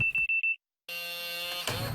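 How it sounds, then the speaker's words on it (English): A home security alarm panel being armed gives four short, evenly spaced electronic beeps, close and clear, followed after a pause by a steady electronic tone with a low hum. "Ah, I forgot to set the alarm."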